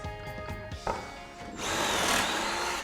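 A power drill whirs briefly, pauses, then runs again in a louder, sustained burst as it bores pocket holes into wood, close up with no talking.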